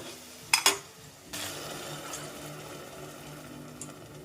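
Water poured into a cooking pot of vegetable pulao with rice, preceded by a couple of sharp clinks of metal utensils, then a steady rushing pour and low bubbling.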